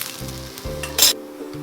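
Thick onion uttapam dosa frying on a hot pan with a steady sizzle and a brief louder hiss partway through, close and alone.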